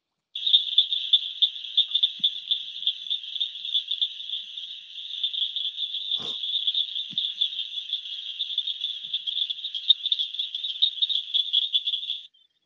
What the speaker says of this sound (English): the Acris gryllus, the southern cricket frog, is really compacted all of those little clicks